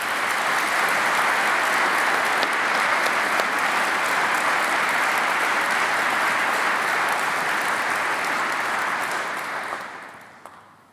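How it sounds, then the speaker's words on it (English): Sustained audience applause for musicians at a university graduation congregation, a dense, steady clapping crowd that holds loud for about ten seconds before tapering off. "A round of applause, please"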